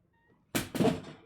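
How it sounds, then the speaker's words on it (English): A cat in the video game Resident Evil Village lets out a sudden, loud, close meow in two quick pulses after near silence. "That was the cat."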